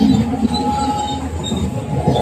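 Train running on the rails, a steady close rumble with faint wheel squeal and rhythmic rattling throughout.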